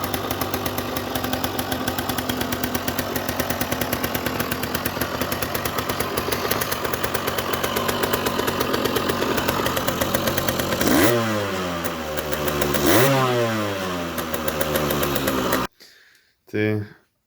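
A Derbi Senda motorcycle engine runs loud and close with a rapid buzzing two-stroke idle, revs up twice near the end, then cuts out abruptly, followed by brief faint noises.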